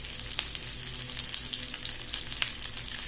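Onions, green chillies and garlic fry in a pan with a bright, crackling sizzle. Sharp pops and spits break through the steady, close hiss for the whole few seconds.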